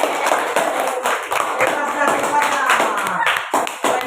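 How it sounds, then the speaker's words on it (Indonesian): Audience applause after a classroom group presentation, a close, dense patter of many hands clapping continuously for a few seconds. "Tepuk tangan."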